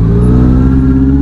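A Ford Mustang's engine revs loudly nearby on a city road, a steady deep rumble with harmonic drone held throughout, heard from a motorcycle in traffic.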